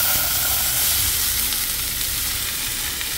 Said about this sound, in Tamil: இப்போ நான் இது தாளிக்க போகிறேன்.